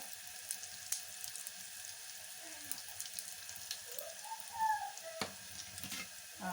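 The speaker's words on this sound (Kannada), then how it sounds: "ಹಾಗೆ ಫ್ರೈ ಆಗಲಿ." A tadka for tomato sambar spits and sizzles in a pan, with steady fine crackling and a few louder pops, close and continuous, with no voices.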